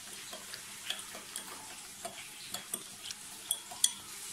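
Gravy mix being stirred in hot water with a utensil, a run of light rhythmic clicks and taps against the container over a quiet background, close and fairly soft.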